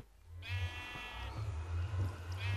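A sheep bleats twice in modded Minecraft, the first call long and wavering and the second short, both set over a constant low background hum.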